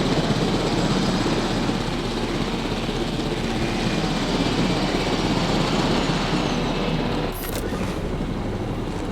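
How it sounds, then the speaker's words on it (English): A transport helicopter in the video game Jurassic World Evolution gives a loud, steady whirring rotor drone that stays close and constant, with a brief dip near the end. "we'll get the transport helicopter out"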